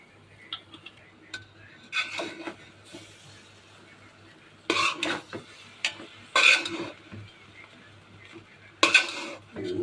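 A utensil stirs fried rice seasoned with salt and soy sauce in a pan, giving scattered scraping and clinking bursts against the metal over a faint sizzle, fairly close and irregular.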